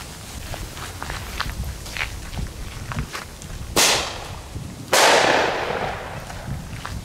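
Two firecrackers bang outdoors near water, each sharp burst trailing off in a long, heavy echo, the second louder and longer than the first, with faint footsteps and rustling between.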